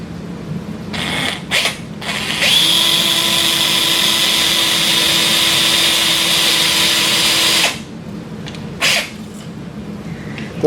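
A 3.2mm surgical power drill bores into the base of the second metatarsal on a sawbones wrist bone model, a loud steady whine lasting about five seconds, framed by brief clicks and short bursts of the tool before and after.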